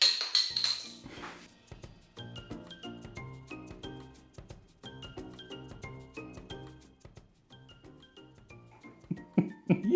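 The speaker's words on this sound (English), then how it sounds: "do you think I can land the lid directly on this bottle?" A metal pot lid is tossed and clatters onto a bottle in a kitchen, giving a quick series of bright clinks and rattles that settle into small ringing taps, fairly quiet and close.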